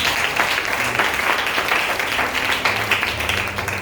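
A church congregation breaks into sustained, dense applause, many hands clapping at once in a large hall, steady and loud throughout with some crowd voices mixed in.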